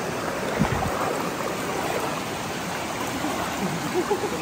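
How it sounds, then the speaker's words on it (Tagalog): A river rushes loudly in a continuous, close wash of churning water that stays steady and unbroken throughout. "Ang loud po sa tig-aswan na tubig ni."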